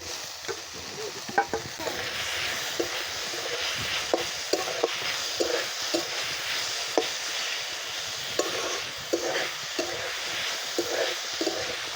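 Greens frying with onion and poppy seeds in oil, stirred in a pan, giving a steady loud sizzle with scraping stir strokes throughout and no talking.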